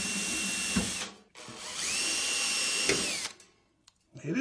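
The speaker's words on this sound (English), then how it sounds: "this is held in with rivets that I'm going to drill out" A power drill whines at high speed through two long bursts, drilling out metal rivets in a computer case, with brief pauses and a clunk between runs.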